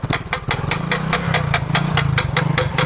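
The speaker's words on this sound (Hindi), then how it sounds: "भाई बाइक स्टार्ट करना जरा।" A motorcycle engine runs at idle close by, with a rough, uneven chug. Evenly spaced sharp ticking knocks repeat about four times a second, suggesting a loose chain or piston noise.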